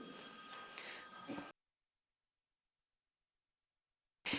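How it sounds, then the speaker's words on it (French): A telephone rings during a municipal council meeting, a loud electronic ring that stops abruptly into silence, then starts again near the end. "Ça, c'est de la sonnerie, Monsieur Frison."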